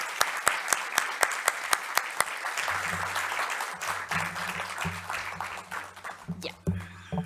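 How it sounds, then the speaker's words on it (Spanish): Audience applause at a Spanish-language book launch for "Ciudades con lentes de Mujer": a few sharp separate claps open, then a steady crowd patter builds, with some voices murmuring underneath near the end. "Un aplauso."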